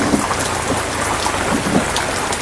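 Steady heavy rain pours down in a thunderstorm, a dense continuous hiss of drops on surfaces with low rumbling underneath, loud and unbroken throughout.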